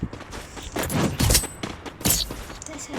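Gunfire from a favourite weapon in a shooter video game comes as bursts of rapid shots and booms, loud and close, in two or three clusters.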